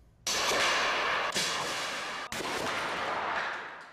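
An air cannon at Texas Tech's National Wind Institute wind research facility lets off a sudden loud blast that becomes a sustained roaring rush of air, with two further sharp bursts riding on the continuous roar.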